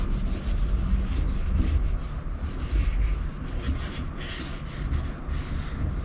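Product is wiped by hand onto a Camaro IROC center console, worked into the seams and armrest: a continuous close rubbing and scuffing with irregular strokes, no voices.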